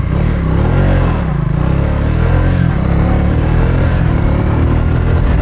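A motorcycle rides along twisty forest roads, its engine giving a loud, steady, throbbing drone that fills the whole stretch with mild rises and dips in pitch, heard close from the rider's position with continuous wind rush.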